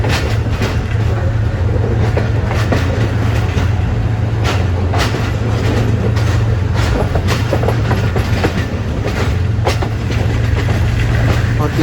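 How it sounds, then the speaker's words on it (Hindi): Pakistani G20 diesel locomotive hauling the Khushal Khan Khattak Express as it accelerates, a loud steady engine drone with rhythmic clickety-clack of wheels over rail joints, heard close and continuous. "एक्सीलरेट करना शुरू किया G20 ने।"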